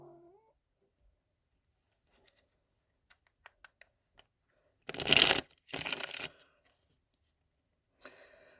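A cat makes two short, loud bursts a few seconds apart after near silence broken only by faint scattered clicks, followed by a softer sound at the end.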